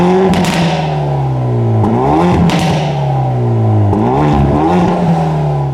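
Loud exhaust of a 2019 Hyundai Veloster N in N mode, revving hard through several rises and drops in pitch, with crackles between the revs and no talking.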